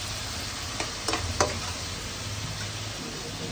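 Bottle gourd and shrimp with spices being stir-fried in a pot over a steady broadband sizzle, with a few brief scraping knocks of a utensil near the middle.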